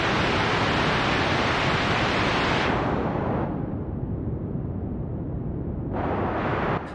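Steady broadband hiss of filtered white noise that suddenly turns duller and darker midway, then brightens again near the end, with a washy, reverberant tail.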